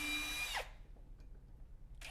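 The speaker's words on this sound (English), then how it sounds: "The most important thing though, once we get the first part in, is we do want to do this technique called pre-drilling." A power drill whirs loudly for about half a second as it pre-drills a hole in a wooden door, then cuts off abruptly, leaving quiet room noise before a brief burst of sound returns at the end.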